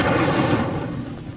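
An Incendio fire spell bursts in Hogwarts Legacy, a loud whooshing flare of flame with a rumbling low body that fades away over a second.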